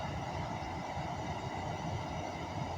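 An Avanti West Coast Pendolino train departs Birmingham International station with a steady, moderately faint rumble and hum of rolling stock, no voices.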